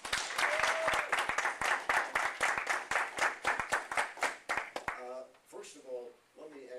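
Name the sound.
audience applause for the speaker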